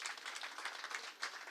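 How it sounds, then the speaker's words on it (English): A seated audience at a corporate presentation applauds, steady fairly faint clapping from many hands that dips briefly and then swells again. "Another round of applause for the Doyen."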